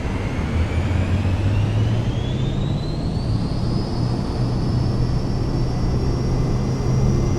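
An aircraft engine in Microsoft Flight Simulator 2024 roars at full power on a takeoff run from Geneva, a loud steady drone whose whine climbs in pitch, with no voices over it.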